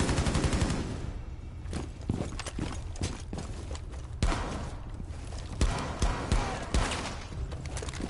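Rapid bursts of video game gunfire crack out over a dense, noisy backdrop, with several sharp louder shots standing out near the middle and end.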